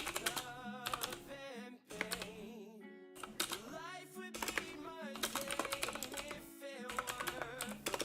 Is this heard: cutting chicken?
no